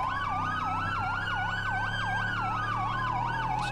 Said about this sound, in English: Security sirens pull up behind this officer.